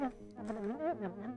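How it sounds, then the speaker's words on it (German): Buzzing like a bee swarm in the video game Deus Ex, a dense droning hum with wavering pitch that holds steady and fairly quiet for the whole moment, with no talk over it. "Klingt wie ein Bienenschwarm."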